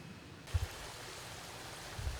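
Creek water at a range on West Creek in Harrison County, Kentucky, flowing in a continuous soft rushing hiss with a few low thumps from nearby handling.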